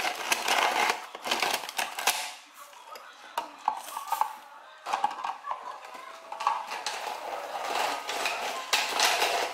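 Ice is crushed to make shaved ice, repeated crunching and grinding bursts in uneven rhythm, close and fairly loud, with people talking faintly in between.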